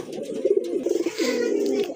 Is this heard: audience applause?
no